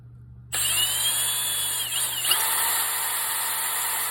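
Power drill running steadily with a 3/16 inch bit, boring near a sump pump discharge outlet; a loud continuous whine starts abruptly after half a second, with a brief pitch dip midway as the bit loads.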